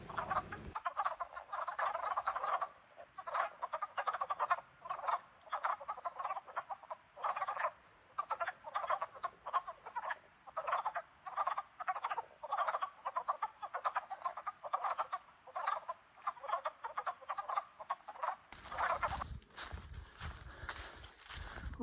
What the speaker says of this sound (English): I thought it was turkeys, and it's frogs.